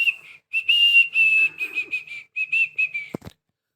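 A person whistles a quick, bouncy tune in short bright bursts, clear and close, ending with a brief thump.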